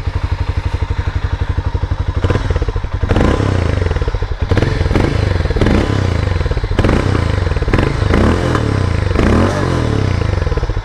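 Harley-Davidson X440 single-cylinder motorcycle exhaust note, a loud, deep, steady thumping pulse that rises as the engine revs, running continuously without talk.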